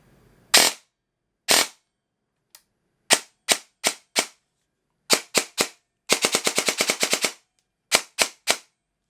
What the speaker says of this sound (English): the rate of fire is around 45 rounds per second